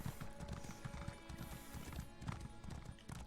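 Horse hooves clip-clop steadily at a slow pace in the video game Elder Scrolls Online, a close, rhythmic series of hoofbeats over soft ambient game music.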